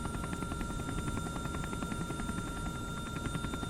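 A video game helicopter flies overhead with a steady, loud rotor drone and hum that fills the whole stretch without a break, and no voices come through over it.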